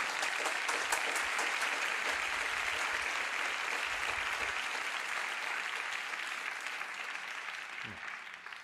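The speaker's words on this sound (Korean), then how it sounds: "우리 강사 목사님 나오실 때 힘찬 박수로 환영하며 맞이하겠습니다" A church congregation at a revival meeting applauds to welcome a guest pastor to the stage, a loud, sustained round of clapping from many hands that tapers off slightly toward the end.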